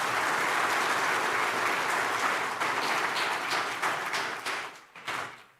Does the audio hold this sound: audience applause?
yes